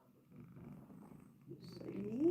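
A cat purring close by, a low soft rumble that grows a little louder toward the end, while a person talks faintly in the background.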